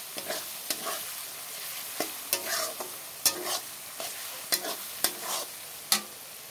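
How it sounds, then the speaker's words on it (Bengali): Onions, green chillies and spices fry in a pan for restaurant-style veg chowmein, a soft sizzle broken by about a dozen sharp scraping strokes of a spatula at an uneven, steady pace. "সব মশলা দিয়ে মশলাগুলোকে একসাথে নেড়ে চেড়ে"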